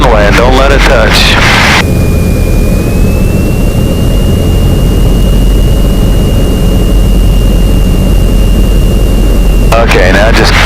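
Cessna 172N light airplane landing at KBCE, heard from inside the cabin: a loud, steady engine and cabin drone runs throughout with a long sustained warning tone, and brief voices come in at the start and end.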